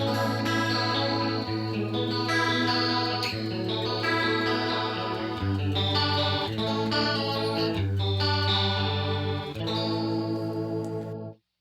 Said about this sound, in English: the speed is all the way up, kind of sounds like that Leslie effect with a rotary drum and horn.